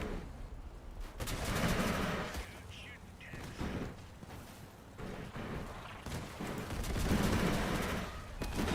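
Dense rapid gunfire and rocket blasts in a mech combat video game, a continuous barrage of overlapping bursts and booms with loud swells around the middle and end.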